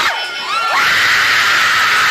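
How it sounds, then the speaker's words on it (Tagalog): High, strained screams with rising and falling pitch break into a loud, sustained wall of shrieking that sounds like a crowd, close and harsh. "looks like someone is screaming for help"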